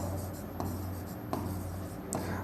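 Chalk or marker writes on a board during a maths lesson on time and work, a steady close scratching texture with a few faint taps, without talk.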